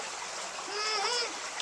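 An old low country creek flowing steadily, a close, continuous rushing wash that swells slightly midway, with a brief faint whistling tone riding on top.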